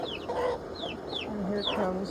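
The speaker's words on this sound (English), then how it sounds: "And here comes the rooster." Backyard chickens cluck softly while a free-ranging rooster makes short, repeated squawking calls, all fairly quiet and close by.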